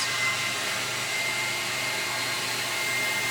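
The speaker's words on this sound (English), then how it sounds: "We got the vacuum going." A vacuum extractor making a wet pass during car interior detailing, a loud, constant roaring hiss with no breaks.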